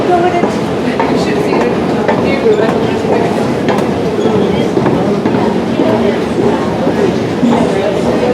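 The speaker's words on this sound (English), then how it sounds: "That's the train that's come from Shenfield." A London train from Shenfield rolls into a station with a steady, continuous rumble and faint rhythmic wheel clatter, voices of people talking nearby over the noise.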